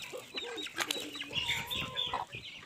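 Several free-range hens cluck and chatter close by, overlapping calls in an uneven rhythm with no talking.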